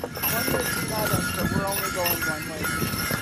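Hooves of Belgian draft horses pulling a sleigh on a snowy day clop steadily in a continuous rhythm, close and clear, with people talking over them throughout.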